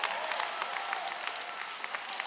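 A church congregation claps together in a dense, lively burst of many overlapping hand claps that holds steady from start to finish.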